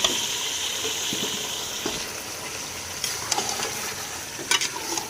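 Tomato and green chili paste frying in a pot for Kabuli pulao, a steady hissing sizzle with a few scattered stirring knocks toward the end, moderately loud, no speech.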